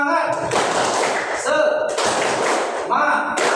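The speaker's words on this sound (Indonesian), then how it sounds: "mari kita tepuk semangat dulu" A classroom of students performs a spirit clap, bursts of rhythmic group clapping in quick patterned beats, with voices chanting along between and over the claps.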